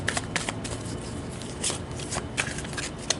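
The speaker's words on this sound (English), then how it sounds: "Let's pull a card for the potential positive or negative aspects of" Tarot cards are shuffled by hand close up, giving repeated soft riffling and slapping bursts at an uneven rhythm, with no talking.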